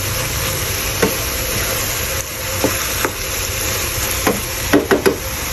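Chili being stirred through a coconut-milk sigarilyas (winged bean) dish in a pan: a steady simmering hiss with a few soft spoon scrapes and clicks, the last ones clustered near the end, no talk.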